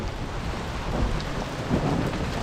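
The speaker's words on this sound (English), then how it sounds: "It's all good, it's just raining now." Steady outdoor rain falling just after a hailstorm, a dense even hiss with low rumbling and occasional louder spatters, no voices.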